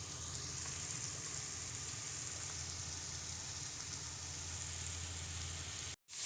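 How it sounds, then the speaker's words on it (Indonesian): Spices and seasonings, shallots, garlic and ginger, stir-fried in a pan, giving a steady, loud, continuous sizzle with a hiss like rain that holds evenly throughout before cutting off abruptly near the end. "Kemudian tumislah rempah-rempahnya ataupun bumbunya."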